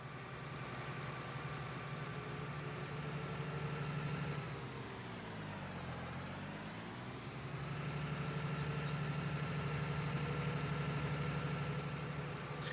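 A vehicle engine drones on steadily in the video game Farming Simulator 19, with its pitch dipping and rising again midway as the vehicle shifts speed.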